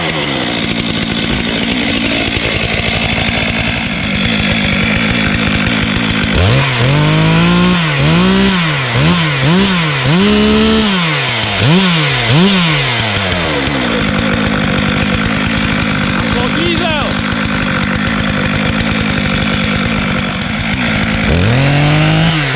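A small two-stroke engine cold-starts on ordinary petrol and runs with a loud, raspy buzz, revving up and down repeatedly in rising and falling sweeps before settling back to a steady run.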